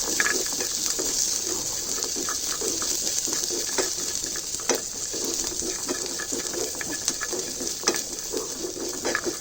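Onions fry in oil in a pan, a steady hiss and sizzle with scattered crackles and pops, close and continuous for the whole stretch.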